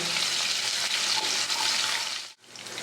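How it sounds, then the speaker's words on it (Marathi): Chopped green chillies hitting hot oil with cumin seeds for a fasting-day sabudana khichdi, a loud dense crackling sizzle that drops out suddenly, then resumes more quietly. "आता यात मी कापून ठेवलेल्या मिरच्या टाकते आणि थोडंसं हलवून घेते"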